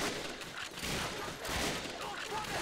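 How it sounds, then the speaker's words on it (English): Rapid gunfire from the Call of Duty: Finest Hour war game, a dense crackle of overlapping shots fired at a German on a bridge, continuous and moderately loud throughout. "I'm shooting a German on a bridge."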